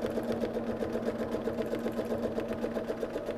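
A sewing machine stitches at a fast, even rhythm while free-motion quilting a pattern into a fabric sandwich, a steady close mechanical hum with rapid needle pulses throughout.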